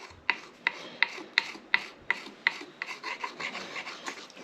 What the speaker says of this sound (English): We're using a really small round file.